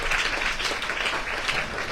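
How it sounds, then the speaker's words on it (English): Audience at a Sri Bhagavata-saptaha gathering clapping, a short, steady patter of many hands applauding at moderate volume. "Applause, please clap for that."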